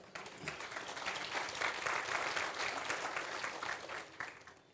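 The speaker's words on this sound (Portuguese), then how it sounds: "Uma salva de palmas para ela." A burst of applause from an audience, swelling quickly, holding steady, then tapering off near the end.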